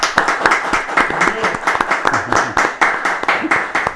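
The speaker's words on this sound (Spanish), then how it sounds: "Y vamos a recibir con un fuerte aplauso a nuestro invitado, Rogelio Goiburu." A studio audience gives steady, enthusiastic applause welcoming a guest onto a Paraguayan interview program, dense clapping at a close, even level throughout.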